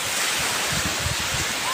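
Ocean waves at New Digha beach: a low rolling surf rumble mixed with gusty wind buffeting the microphone, brief and continuous.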